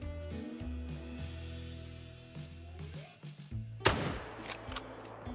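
.44 rifle fired at an alligator in a hunting video game: a single sharp, loud shot cracks out over quiet droning background music, followed by a few fainter trailing thumps.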